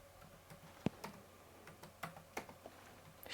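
Keys tap on a computer keyboard as a design name is typed, sparse irregular clicks, quiet and close, with a couple of sharper key strikes and no speech.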